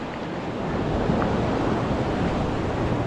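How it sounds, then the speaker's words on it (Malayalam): Sea waves breaking on a rocky shore while gathering shellfish, heard as a continuous close wash of surf with some wind noise and no voices. "ഈ തിരമാല വന്നിട്ട് മുതുകത്ത് ഒറ്റ അടിയാണ്"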